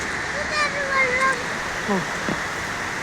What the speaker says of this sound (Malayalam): വലിയ പുഴയൊക്കെ കണ്ടോ അവിടെ